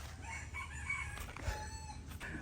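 Chickens cluck and crow faintly in the distance over a low, steady background rumble.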